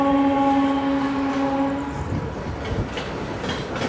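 A long Indian Railways train passes close by, its wheels clattering over the rail joints in a steady, loud clickety-clack. A sustained tonal hum from the rolling stock fades out partway through.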